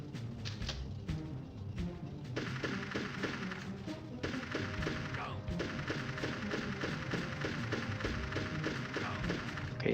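Sniper rifle shots and explosions ring out in the video game Army Men: Sarge's Heroes, a busy run of sharp repeated cracks and thuds over game sound.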